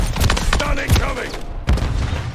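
Automatic gunfire bursts and booming shots from Modern Warfare 3 team deathmatch on the Stash House map, loud and dense over a busy battlefield mix, with a clipped game voice callout under the shooting.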